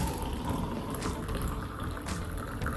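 Hot water poured into a French press over cinnamon for tea, a soft continuous trickling and filling sound at close range, fairly quiet and steady with no talking.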